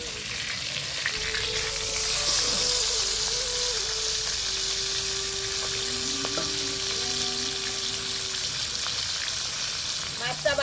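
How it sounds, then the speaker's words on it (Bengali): Fish pieces fry in hot oil in a pan, giving a continuous crackling sizzle that holds steady and fairly close from start to finish, with a faint tonal hum running in the background. "মাছটা ভাজা হয়ে গেছে"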